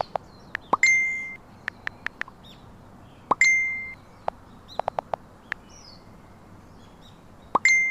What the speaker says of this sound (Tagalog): sunod-sunod ang tunog ng cellphone ko